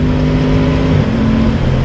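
Aprilia Tuono 660 motorcycle engine drones loud and close under steady throttle, its pitch dipping briefly as the quickshifter clicks up a gear.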